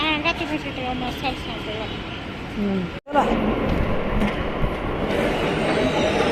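A metro train rumbles steadily with a brief cutout partway through, near Qutub Minar, while a person talks over the continuous noise.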